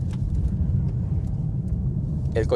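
Interior of a Ford Focus ST with 286 hp driving on the road in normal mode, a constant low engine and road rumble with a faint knock near the end.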